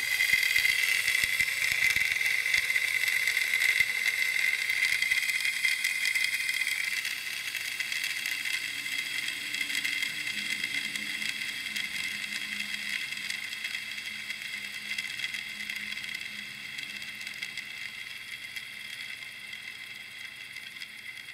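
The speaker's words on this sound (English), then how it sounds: "Let me show you what it's spinning like." A Proto ceramic bearing spins freely in a steady, faint high whir close by that runs for about twenty seconds and gradually softens as it slows, with no talking.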